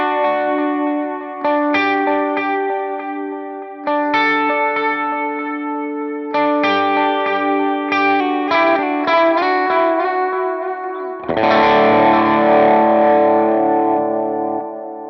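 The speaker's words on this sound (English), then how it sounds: "let's get a more rhythmic delay" An electric guitar plays through a Line 6 HX Stomp with distortion, rhythmic delay and reverb: picked notes and chords echo in timed repeats over a lingering wash, ending in a louder strummed chord, with no talking.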